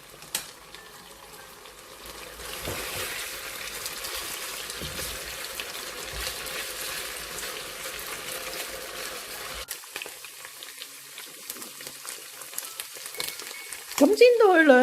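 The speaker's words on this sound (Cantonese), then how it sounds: "咁擺落去咧就煎佢一陣" Diced chicken pan-fries in a generous layer of oil, a steady crackling sizzle that runs on for several seconds, then thins out, with a brief louder rattle at the very end.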